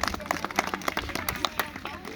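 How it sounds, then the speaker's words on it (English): A small outdoor audience claps after a birds of prey show at Callaway Gardens, with scattered, uneven hand claps that are fairly close, mixed with some crowd murmur. "Let's give him a round of applause"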